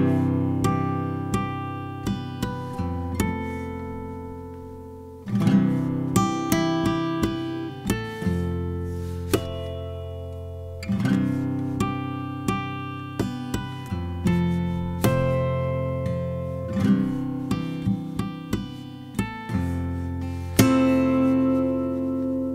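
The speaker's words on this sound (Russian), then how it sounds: "Но не все используют слэп-флажолеты, они выглядят так." Percussive, bell-like slap harmonics on an acoustic guitar pop out in a rhythmic pattern, each struck note ringing briefly over a plucked bass line.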